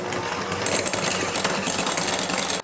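An electric mixer creams cream cheese in a bowl, a buzzing mechanical whir with rattling beaters knocking against the bowl, fairly loud and close, cutting off abruptly at the end.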